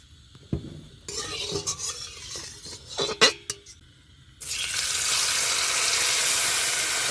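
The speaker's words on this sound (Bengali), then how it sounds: "কড়াই গরম হয়ে গেছে তেল দিয়ে দিলাম" Fish frying in hot oil in a kadai: a few metal clinks and scrapes of utensils, then a sudden loud, steady sizzle that fills the rest of the clip.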